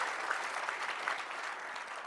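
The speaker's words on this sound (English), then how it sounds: "give yourself a round of applause" An audience applauds continuously, a dense, even wash of many hands clapping that holds steady for the whole stretch, moderately loud with no talking over it.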